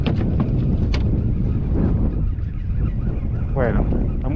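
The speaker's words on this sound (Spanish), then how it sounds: "está muy fuerte el viento y aparte la marejada" Strong wind roars against the microphone over rough surf at a river mouth during fishing, with a constant heavy rumble and a faint voice or call breaking through near the end.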